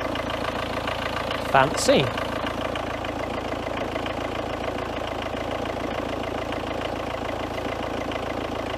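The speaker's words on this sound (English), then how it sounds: "Please start the engine." A car engine idles during a battery charging test, a steady low rumble throughout, with a brief spoken word near the start.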